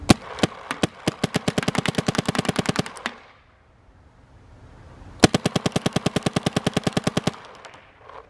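An Empire Axe 2.0 paintball gun fires in semi-auto, two loud close bursts of rapid, evenly spaced sharp pops separated by a couple of seconds of quiet, with a few scattered shots at the very end.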